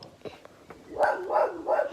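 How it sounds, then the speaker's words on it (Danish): A dog indoors gives a few soft muffled sounds and then three loud close barks in quick succession near the end. "Hold dog kæft, hund"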